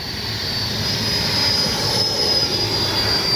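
Freewing Banshee 64mm electric ducted-fan RC jet flying past, a loud steady whooshing whine with a high tonal edge that holds across the pass, close by and with no talk.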